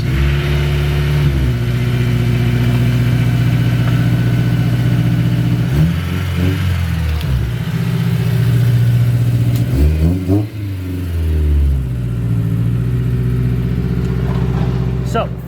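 A Honda S2000 with Spoon parts pulls away, its mid-pitched engine droning loudly up close and rising in a few revving surges before settling back.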